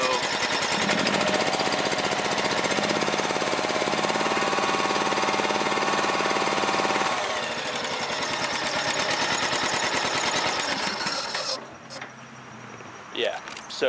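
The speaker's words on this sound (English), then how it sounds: "it looks like it's only running on one cylinder here, when I guess technically it should be on two" A John Deere 737 mower engine misfires on only one of its two cylinders, hammering in a loud, rough, rapid beat that weakens and falters toward the end.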